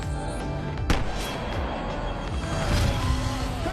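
Gunfire in an attack on a helicopter in the SWAT film, a sharp loud crack followed by softer thuds and booms over a dense rumble of engine and action noise, with no voices.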